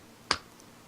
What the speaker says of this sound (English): that was the sound of my palm hitting my face